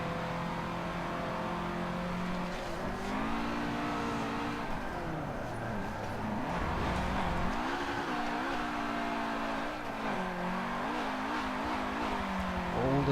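A race car in Forza 7 drifts with engine revs rising and falling repeatedly, tire squeal woven through a continuous, fairly quiet stretch of throttle blips and sliding.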